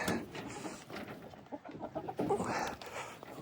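Soft, scattered clucking from chickens close by, quiet and irregular against light background noise, as they are moved over ashes for a dust bath.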